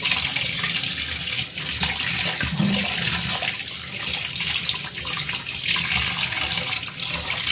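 Meat being washed under a running tap, a steady broadband gush of water splashing into a sink for the whole stretch, close and fairly loud with no talking.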